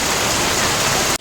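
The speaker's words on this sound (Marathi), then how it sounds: "पाऊस बघा किती जोरात पडतोय इथे." Heavy rain pouring down near the Tungareshwar Mahadev temple in Vasai, a loud, steady wash of hiss that continues without a break and then cuts off abruptly.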